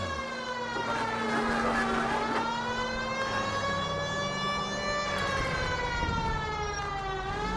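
Police car siren wailing in L.A. Noire, a loud rising and falling tone holding steady across the whole stretch, with engine and traffic rumble beneath and no talking.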